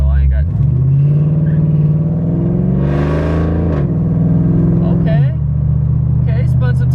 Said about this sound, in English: Okay, spun some tires a little bit.